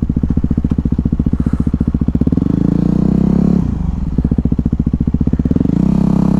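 A motorcycle ridden up close, its engine pulsing loudly and revving up and down with rough clattering texture throughout, no voices.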